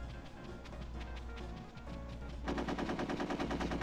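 Gunfire in the Heist mode of Conker's Bad Fur Day: quiet game sounds give way to a rapid, evenly pulsing burst of automatic fire that rattles on steadily to the end.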